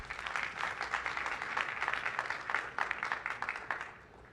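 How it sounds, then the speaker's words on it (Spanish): Audience applause at a maritime energy transition conference, a steady patter of many hands clapping that fades out toward the end. "Por favor, un aplauso."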